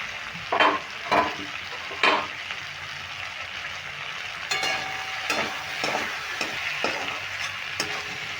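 Ivy gourd (kundri) cooks in a pan as a spatula stirs it, with a few separate scrapes early on, then a busier run of clinks and scrapes over a steady frying sizzle.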